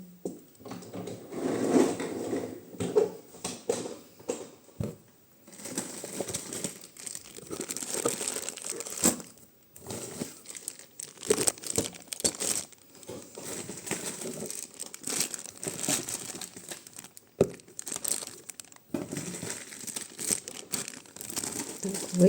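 Plastic packets crinkle and rustle up close, with steady crackling handling and occasional sharp rips as they are torn open.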